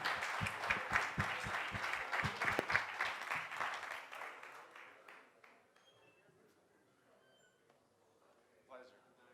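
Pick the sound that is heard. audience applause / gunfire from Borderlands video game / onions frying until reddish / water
audience applause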